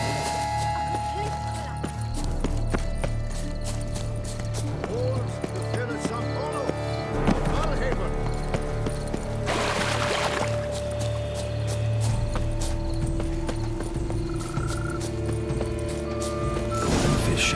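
Horse hooves gallop in The Witcher 3, a steady clip-clop rhythm running throughout over a constant game ambience, with a brief burst of rushing noise partway through and a soft hint of voices in the background.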